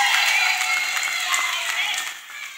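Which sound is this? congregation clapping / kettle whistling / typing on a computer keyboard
congregation clapping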